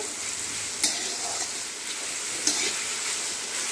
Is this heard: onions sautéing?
yes